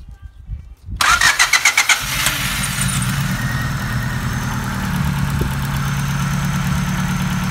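A Honda car engine cranks with a rapid stuttering burst, catches, and settles into a steady low idle that keeps running throughout.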